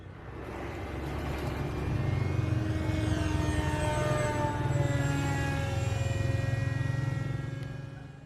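A homemade RC Su-57 Felon model plane flies past, its steady motor drone with a whining tone rising and falling in pitch as it moves, at moderate distance, with no voices.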